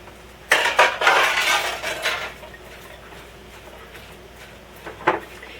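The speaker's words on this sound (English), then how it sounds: "we're going to add 1 cup of chopped walnuts" Chopped walnuts tumbling into a bowl of tart mixture made with sugar and butter, a short rattling clatter of nut pieces followed by quieter scattered clinks, close and clear with no talking.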